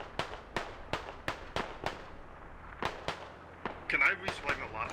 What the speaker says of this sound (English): Russians doing some shooting here.